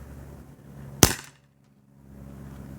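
A single sharp gunshot from a Bear River 4-inch revolver, loud and close, with a brief ringing decay and then near silence before low background noise returns.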